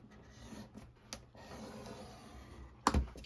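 A stylus scores a line across paper on a scoring board while making an envelope, giving soft scraping rubs and light taps, then a sharp knock near the end, close and quiet.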